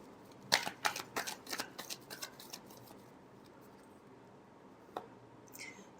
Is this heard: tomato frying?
no